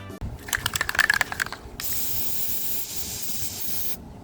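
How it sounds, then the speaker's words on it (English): Flex Seal aerosol coating sprayed onto the wheels of a beetleweight combat robot: a few short rattling hisses, then one steady close spray of about two seconds that cuts off abruptly. "I sprayed the wheels with 1 coat of Flex Seal"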